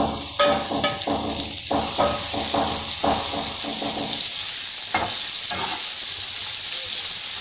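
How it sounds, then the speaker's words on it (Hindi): Carrots fry in a hot pan for a Chinese-style potato and carrot vegetable dish, giving a loud, steady sizzle with bursts of crackling and a few scrapes as they are stirred. "थोड़ी सी भुनाई कर लेंगे गाजर की"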